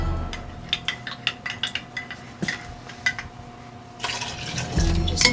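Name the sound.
pouring cold water into cornstarch for gravy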